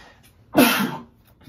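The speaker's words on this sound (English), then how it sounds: "I'm about to sneeze" One sudden, breathy burst close to the mic, a sharp sneeze-like expulsion that fades quickly into quiet.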